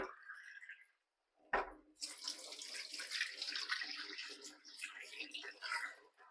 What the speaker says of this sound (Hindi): इसमें भर दूंगा पानी, ताकि डब्बा मैं दूसरी जगह इस्तेमाल कर सकूं